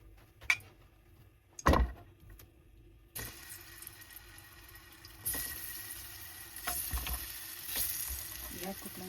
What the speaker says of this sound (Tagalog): prituhin natin yung saging natin